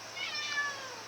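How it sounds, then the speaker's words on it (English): A pet cat meows indoors, one drawn-out, fairly faint cry standing alone in a quiet room. "you can probably hear my cat right now"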